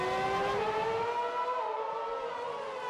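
Renault 2006 Formula One car engines in a racing video game at the Hungary Grand Prix, a steady high-pitched engine whine rising and falling slightly as the cars run, loud and continuous with no talking.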